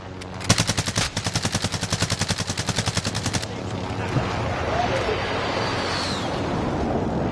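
Video game gunfire in Call of Duty Warzone, a long rapid machine-gun burst of about twenty evenly spaced close shots lasting three seconds, then stopping and leaving a rumbling wash of background noise.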